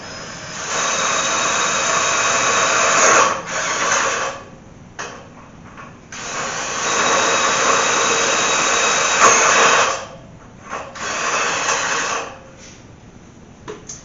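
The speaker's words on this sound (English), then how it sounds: "let's get these drilled" A power drill bores into a garage door in long, loud whining runs broken by short pauses, two extended drilling passes with brief stops and restarts between them.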